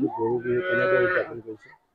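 A cow gives one long, loud, close moo that rises and then trails off, heard alone during the Goru Bihu cattle festival in Assam.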